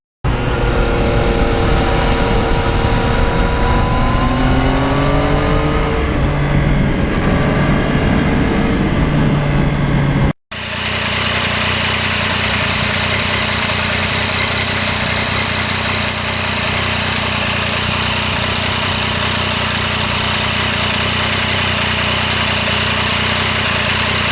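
A 2020 Yamaha MT-09 motorcycle engine runs steadily while riding, with a sustained loud drone and shifting pitch that rises and falls before a brief cut, then a steady cruising hum with wind noise.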